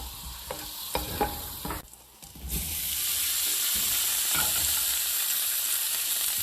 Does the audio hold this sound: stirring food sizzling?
yes